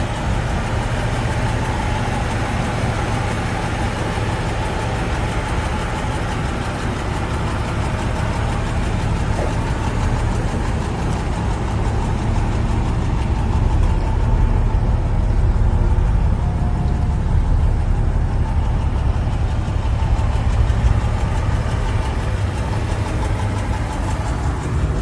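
A car engine idles steadily for the whole stretch, a low, even rumble with a slight rise in the middle and no talking.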